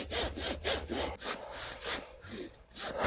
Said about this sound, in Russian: начинаем пилить